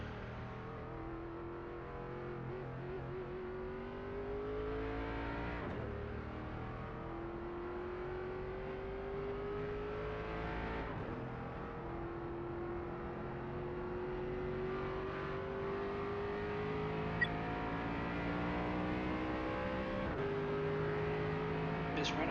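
ARCA race car engine in iRacing at Nashville Superspeedway, a steady loud drone that rises through the gears with repeated shifts, running continuously.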